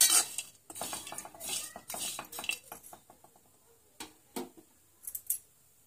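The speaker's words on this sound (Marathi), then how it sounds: "खोबरं व्यवस्थित लाल रंगाचं होईपर्यंत भाजून घ्यायचं" Grated coconut dry-roasted without oil in a pan for Khandeshi shev bhaji, a metal spatula scraping and clinking against the pan in quick bursts, close by, then a few scattered scrapes.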